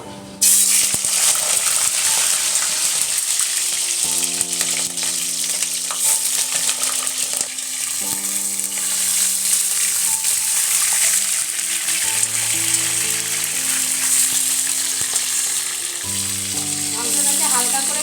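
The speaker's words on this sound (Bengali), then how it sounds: "এরপর তেলের মধ্যে মাংসর পিসগুলো দিয়ে দেবো" Chicken pieces fry in hot oil with whole cinnamon, cloves and cardamom for a Bombay-style spicy chicken biryani, a loud continuous close-up sizzle that stays steady throughout, over a soft tonal layer.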